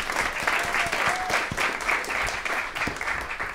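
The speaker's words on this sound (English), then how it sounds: "Give yourselves a round of applause for coming out." Audience applause at a live music residency night with a DJ, a steady dense wash of clapping from a crowd that carries on at full strength throughout without a break.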